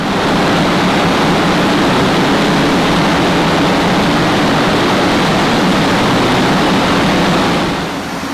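Mini JCW R59 engine at full load on a dyno run, a loud, steady roar with broad exhaust and intake noise that holds for about eight seconds before easing slightly at the end.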